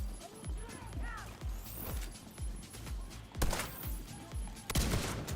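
Rapid gunfire from The Division 2 comes in a steady rhythm of punchy shots, with a couple of louder cracks near the end, while a player talks over it.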